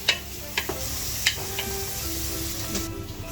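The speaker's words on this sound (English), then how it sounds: "we're going to fry it until it browns as well" Oil sizzling steadily in a cooking pan before beef is browned, with a few sharp stirring clicks and scrapes over a constant hiss.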